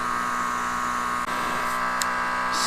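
A Lokithor AW401 200 PSI water sprayer pump runs with a steady, loud electric motor whine and hum, continuous throughout with a brief dip midway and a short hiss near the end.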